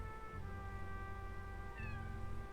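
A cat meows during a tabletop role-playing session, a couple of soft, sustained calls heard faintly in the background with no talk.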